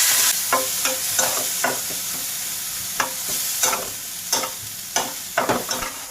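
Ground cumin, coriander, turmeric and Kashmiri chilli powder fry with a splash of water in a pan for mushroom curry, a soft steady sizzle broken by a series of sharp spoon scrapes and knocks, close up.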